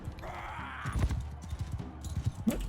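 Horse hooves clip-clopping with a brief whinny during medieval combat in a Vlandian-faction video game, a rhythmic trot under scattered battle noise.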